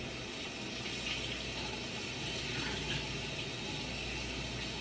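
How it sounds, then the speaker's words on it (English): Water from a tap pours steadily, a continuous broadband rush with no breaks, as fresh green herbs are rinsed under it in a sink. "I'm going to rinse these off."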